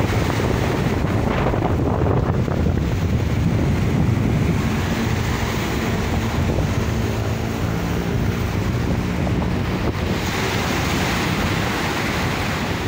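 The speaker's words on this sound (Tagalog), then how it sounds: "Mahangin siya dito sa itong Manila." Steady outdoor wind at Manila Bay buffeting the microphone, a constant roaring rush with a faint watery wash underneath, no voices.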